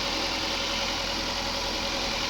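A Mazda MX-5 with the 1.8 Skyactiv chain-driven engine idles in a steady, even hum that holds unchanged throughout, with no talking over it.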